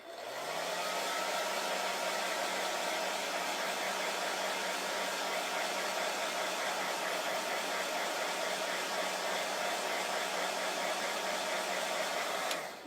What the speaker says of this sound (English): Let me just blow dry and then I'll show you real quick.